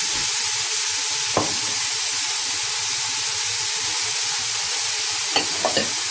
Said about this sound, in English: Just saute them a bit. And I'm adding soya